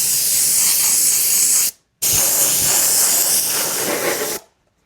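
Spray paint can hissing Wicked Black onto an RC car body, a Kyosho Dune Master, in two steady close bursts of about two seconds each separated by a short pause.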